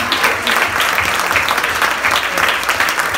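A church congregation applauds together in a dense, steady wash of clapping, close and sustained from start to finish.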